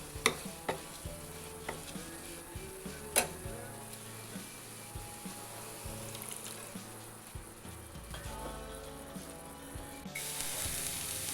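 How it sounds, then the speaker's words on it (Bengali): Raw papaya curry is sautéed with a little water, a quiet simmering sizzle under a few sharp clinks and scrapes of stirring in the pan, with a faint low hum in the background. "এটা অল্প করে করে জল দিয়ে দিয়ে সুন্দর করে কষিয়ে নিয়েছি"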